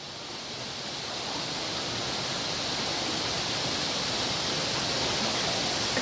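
Forceful water pours nonstop over the Kanto Lampo waterfall in Ubud, a dense, steady roar close by with no voices, holding the same level for the whole stretch.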